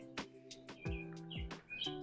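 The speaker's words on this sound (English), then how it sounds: "we got a bird fight here" Backyard birds squabbling over a birdhouse, with rapid overlapping chirps and short tweets in quick bursts, fairly close, over a faint steady hum in the background.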